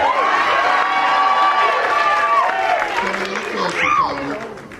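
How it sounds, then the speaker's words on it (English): Audience at a burlesque show cheering and applauding, a loud, dense roar of clapping, whoops and shouting that holds steady before easing off at the end. "Give him a big round of applause."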